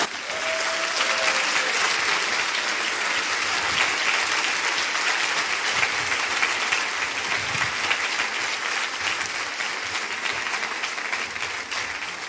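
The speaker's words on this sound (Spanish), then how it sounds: "Denle un aplauso al Señor." A church congregation applauds during a sermon, steady sustained clapping from many hands filling the room, even and continuous with a faint murmur underneath.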